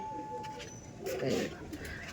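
A male pigeon in a loft gives a low, soft coo that swells briefly in the middle, quiet and close, amid faint background chatter and bird noise.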